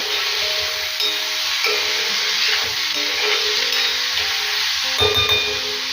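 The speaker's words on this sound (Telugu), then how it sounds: "ఒకటి పెద్ద సైజు టొమాటో వేసేసుకొని బాగా మిక్స్ చేసేసుకున్నాము" Tomato and curry leaves fry in a pan while being stirred, giving a continuous moderate sizzle and hiss, with a spoon scraping now and then and a brief clatter near the end.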